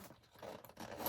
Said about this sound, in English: now zip that up